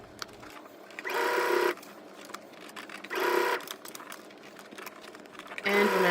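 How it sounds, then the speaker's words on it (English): A sewing machine understitches a garment lining close to the seam in three short runs, each under a second long, separated by quieter pauses filled with faint handling sounds. "you're stitching on top of the lining as close as possible to the seam"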